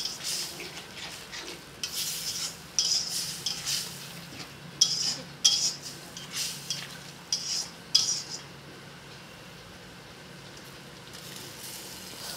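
A spoon scrapes and clinks against a pan while fish roe curry with potatoes is stirred and cooked down with a little water, producing irregular metallic taps over a soft, steady sizzle.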